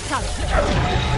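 Reducto spell blast in the video game Hogwarts Legacy, a loud crashing impact with a swooshing edge, heard under a voice that talks through the brief moment.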